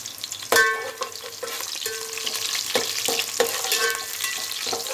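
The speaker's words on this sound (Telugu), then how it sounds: "ఒక ఆనియన్, 4-5 పచ్చిమిర్చి, గరం మసాలా వేసుకొని మంచిగా వేగనివ్వాలి." Onion, green chillies and garam masala fry in a pan with a steady, close sizzle, broken by several sharp scrapes and clatters of a spoon stirring, and no talk.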